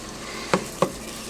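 Ingredients frying in a pan for old-fashioned homemade spaghetti sauce, a soft steady sizzle broken by two quick spoon scrapes or stirs, close and quiet.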